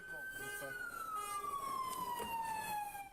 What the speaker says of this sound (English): I don't want to listen to that siren anymore.